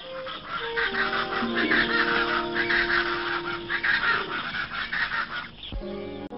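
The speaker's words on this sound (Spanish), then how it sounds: "Patos putirices." Whistling ducks give a run of clear whistled calls over a flock of honking waterfowl in an open Bolivian wetland, loud and layered, with no one talking.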